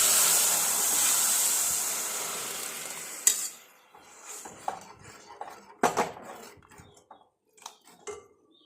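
Hot oil with mustard seeds, onion, chili powder, turmeric and salt sizzles steadily in a pan, then the hiss cuts off abruptly as cooked dal is poured in, followed by scattered clinks and scrapes of a spoon stirring.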